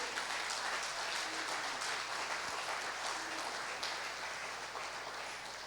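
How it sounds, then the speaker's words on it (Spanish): Congregation applauding during a Spanish-language family church service, a soft, continuous wash of clapping heard at a distance, even and low in level throughout. "Dele un fuerte aplauso al Señor."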